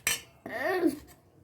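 A spoon stirs masala buttermilk in a vessel: a sharp metallic clink, then a longer ringing scrape of the spoon against the side, close and clear in a quiet room.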